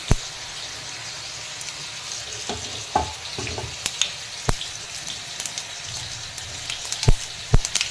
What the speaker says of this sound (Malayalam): എണ്ണ ചൂടായിട്ടുണ്ട്. അതിലേക്ക് നമുക്ക് കടുക് ഇട്ട് കൊടുക്കാം.